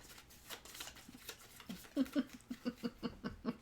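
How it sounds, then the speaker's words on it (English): Decks of Pathfinder Adventure Card Game cards are shuffled on a table, a quick series of soft riffling bursts that settles into an even rhythmic patter, fairly quiet, with faint voices and a chuckle in the background. "we're going to shuffle up these decks"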